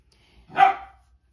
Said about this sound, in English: You can hear Maisie barking.